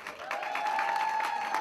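An audience applauding to welcome guests at an event, dense continuous clapping that holds steady for the whole moment.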